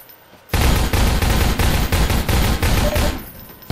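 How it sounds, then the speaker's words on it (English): Shotgun blasts fire in rapid succession in the video game Half-Life 2, roughly eight loud booming shots in a steady rhythm, close and dominant after a brief quiet start, with no talking. "that's a shotgun"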